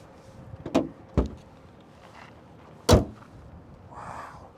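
Door or compartment lid on a Hyundai Ioniq 5 electric car shut with a few sharp thuds, one loud slam near the end, then a faint soft whir.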